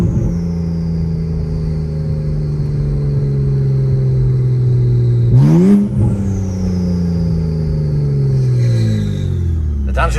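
A BMW 335i with the N54 engine and upgraded 19T turbo, around 550 wheel horsepower, drones under load. Engine pitch drops, then revs sharply upward in a quick downshift blip, followed by another falling sweep as the car decelerates, heard from inside the cabin.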